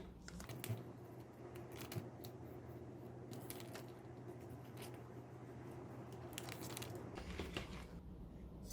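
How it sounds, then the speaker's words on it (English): Scissors cutting around a marked wallet pattern on a tabletop, faint intermittent snips and crisp rustles in short bursts against a quiet room hum. "I need to cut a little more on that side"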